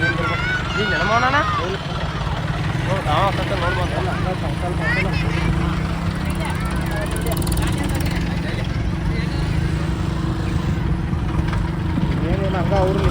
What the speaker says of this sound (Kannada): ಈಗ ನಮ್ಮ ಬೆಟಗರಿಂದ ಟ್ರ್ಯಾಕ್ಟರ್ ಬಂತ್ರಿ